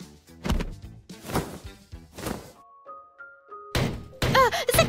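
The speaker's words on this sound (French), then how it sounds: "Je retourne juste le matelas parce qu'il fait chaud." A mattress flipped over in a bedroom gives several dull, close thumps and soft rustling bursts, with a brief run of tones in a quiet gap between them.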